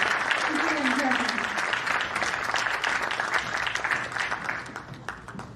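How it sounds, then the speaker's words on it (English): Audience applause at a live Vishwa Sadbhavana event in honour of PM Modi, a dense, steady wash of clapping from a large crowd that holds at full strength and only slowly thins out. "I would request all of you to give a round of applause for PM Modi and his success making India what it is today."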